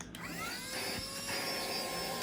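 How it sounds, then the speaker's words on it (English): Small handheld cordless vacuum cleaner, an inexpensive model that doubles as a blower, running steadily with a constant motor whine and airflow hiss, close and loud, after a brief start. "here is the handheld vacuum that I use"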